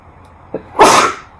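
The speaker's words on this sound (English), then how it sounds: "just going to sneeze." A single loud, close sneeze: a short sharp intake, then an explosive breathy burst lasting about half a second, from a person sitting indoors.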